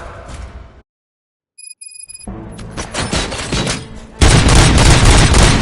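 Gunfire in the RoboCop: Rogue City video game, sharp bursts of shots that build into a dense, loud fusillade after a brief silence and a few electronic beeps.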